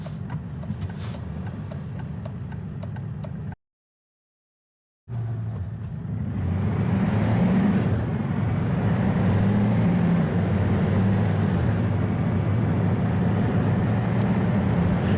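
Truck engine from the Euro Truck Simulator 2 driving game rumbles loud and steady, with hissing air brakes. The sound cuts to a short silence, then the heavy drone returns and continues.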